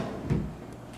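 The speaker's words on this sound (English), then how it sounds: "four drawers, they all come out, and this one is the largest down here" A desk drawer in a college dorm room is pulled out, giving a single short sliding thump in a quiet room.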